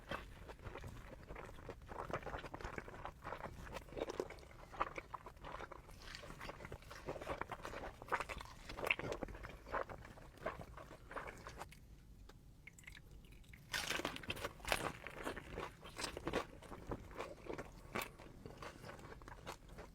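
Repeated crisp crunching bites into fried birria tacos from Los Barbados Birria in Asbury Park, New Jersey, a crispy shell with a soft interior, close and loud with chewing between the bites and a short pause near the middle.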